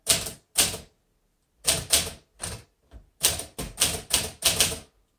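Someone types on a 1949 Smith Corona Silent manual typewriter, bursts of muffled key strikes in quick clusters separated by short pauses, close and clear with no talking.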